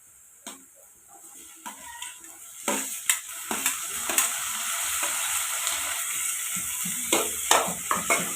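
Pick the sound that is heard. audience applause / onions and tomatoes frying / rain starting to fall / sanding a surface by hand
onions and tomatoes frying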